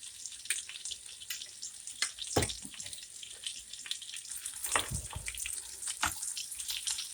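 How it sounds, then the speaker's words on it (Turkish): Tomato paste sizzles in melting butter in a pan, a soft crackling hiss with sharp spits and occasional stirring scrapes, close up and with no voices. "Tereyağımız erimeye yakın içerisine dolu dolu bir kaşık salça koyuyoruz."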